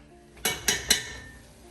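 Chili stirred in a pot: three quick metallic clinks of a spoon against the pot's side, close and distinct, in an even rhythm over quiet kitchen background.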